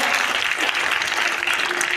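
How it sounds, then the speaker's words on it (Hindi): Children applauding together inside a school, a dense steady patter of claps continuing throughout at close range with no gaps, filling the room for the full moment. "सभी लोग ताली बजाइए"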